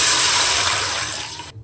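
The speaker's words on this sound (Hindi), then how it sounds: "जितने चावल होंगे उससे डबल पानी हम डालेंगे" Water pours in a steady, loud rushing stream into a cooking pot for rice, close by, then cuts off abruptly near the end.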